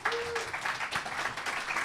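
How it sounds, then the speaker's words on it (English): An audience applauds after a heated debate, a short burst of scattered clapping at moderate distance, fairly quiet and even, with a faint tone and murmur underneath. "A round of applause."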